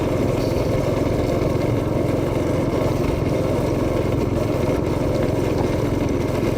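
A go-kart engine runs loud and steady on a snowy street, with a continuous buzzing drone close by that holds an even pitch throughout and carries no voices.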